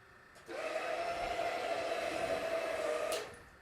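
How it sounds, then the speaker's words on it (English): Rotary carpet-cleaning floor machine switched on, a loud steady motor whine starting abruptly, holding for about three seconds and then cutting off. "That's a typical response of somebody turning on a floor machine for the first time."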